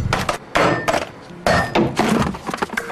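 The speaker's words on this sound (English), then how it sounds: "What happens to this sander is typical. This is called the 6-foot drop test." A Ryobi power sander dropped six feet onto a hard floor in a drop test gives several loud, close clattering impacts and bounces with rattling plastic over about three seconds, and no voices.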